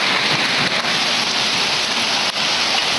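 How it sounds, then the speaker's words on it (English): Hail and heavy rain pouring down outside during a severe summer storm, a loud, dense, unbroken hiss with a couple of brief dips. "We got hail. This is actual, legit hail."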